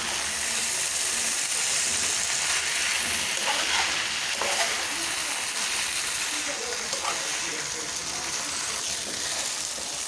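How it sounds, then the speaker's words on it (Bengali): Noodles with cooked meat and chaat masala sizzle steadily in a pan, a constant crackling hiss with a few louder spits and stirring noises partway through. "একেবারে হয়ে গেছে ভাজাটা একেবারে রেডি"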